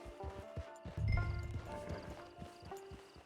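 Horse hooves clip-clop in the video game Red Dead Redemption 2, a quick series of close, distinct hoofbeats with a heavier thump in the middle, over a quiet game background.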